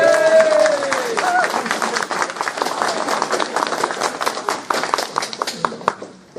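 A lecture audience breaks into loud, close applause and cheering, dense clapping rolling on for several seconds as a voice rises briefly at the start and then fades under the noise.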